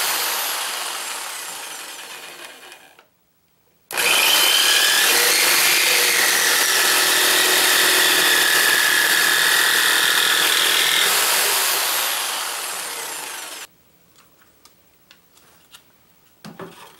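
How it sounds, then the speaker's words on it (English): A handheld jigsaw cuts through wood with a loud, steady buzzing rasp. Two stretches of cutting are split by a short silent pause, then quiet handling sounds follow. "we're going to go to the hand jigsaw because it's easier"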